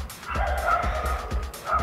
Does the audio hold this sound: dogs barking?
yes